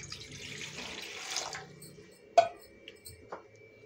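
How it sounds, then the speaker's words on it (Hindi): About a litre of water is poured into a kadhai on a gas stove, a steady splashing pour for a second and a half, then a few drips and light metallic clinks. "अब मैं डाल रही हूँ इसमें 1 लीटर पानी"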